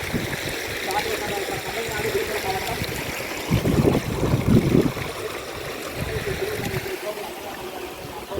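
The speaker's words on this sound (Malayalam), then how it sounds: "വെള്ളത്തിൽ കൂടെ തന്നെ നടക്കാൻ തീരുമാനിച്ചു" Footsteps wading through a cold forest stream on the traditional Karimala trekking route, with continuous rushing water close by, louder splashing surges midway, and a voice speaking over the flow.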